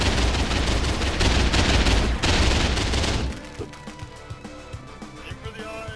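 Heavy, loud video game gunfire pours out in a dense barrage for about three seconds, then gives way to quieter scattered shots and clicks over a lighter background.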